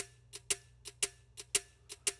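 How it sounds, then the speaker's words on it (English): A small metallic ticking element in a half-time shuffle drum groove built in Logic Pro X, resembling an alarm clock: crisp, evenly spaced ticks in pairs, repeating steadily over a low sustained bass tone, with no voices. "I have this little, I don't know, it sounds like an alarm clock to me"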